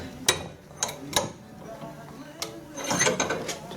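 Bolts being tightened on a Girling brake servo of a Triumph GT6 under restoration, several sharp ratcheting clicks and metallic clunks in irregular bursts, close and moderately loud.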